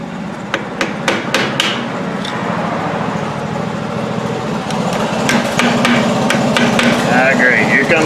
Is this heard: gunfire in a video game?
no